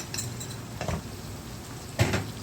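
A spoon stirs garlic, ginger, onion, curry powder, black pepper and a Maggi stock cube in a cooking pot, giving a few soft metallic scrapes and clinks against a faint background, with one sharper knock near the end.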